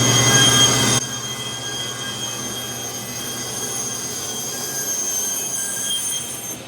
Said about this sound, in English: we're basically straight line ripping the plywood here by cutting off that little 5 millimeters